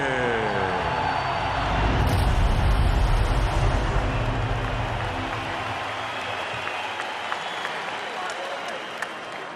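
Crowd at a heavyweight title boxing arena for an Alexander Usyk fight roars in a dense, sustained wash of cheering, swelling loud and steady, with a commentator talking over it.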